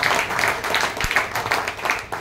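Audience applause at an interview event with an actress, a sustained dense wash of clapping from many hands, loud and continuous for the whole stretch, with no voices over it.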